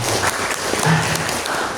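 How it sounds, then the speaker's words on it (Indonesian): Brief clapping from attendees at an Indonesian cooperative's annual members' meeting in Pekalongan, a short dense burst with a low voice faintly underneath. "Tepuk tangan Bapak Ibu"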